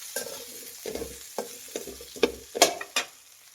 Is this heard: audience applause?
no